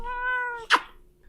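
A female cat gives one clear, drawn-out meow, close and fairly loud, ending in a sharper burst before fading into near silence.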